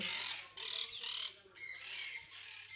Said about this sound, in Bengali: কারণ এখানে পাখির এত আওয়াজ